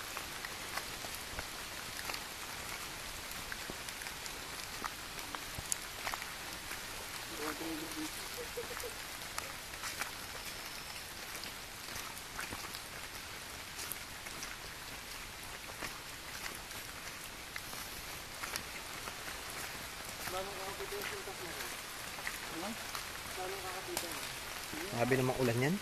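Steady rain patters on surfaces throughout, soft and continuous, with faint voices talking now and then in the background.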